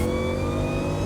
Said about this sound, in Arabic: والله صوت السوبر روعة. ماكينة CTSV ماكينة